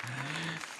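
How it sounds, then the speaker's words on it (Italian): Brief burst of audience applause at an evening gala in Nardò, dense steady clapping with a held musical tone underneath that cuts off partway. "noi lo sentiamo soltanto attraverso il vostro applauso"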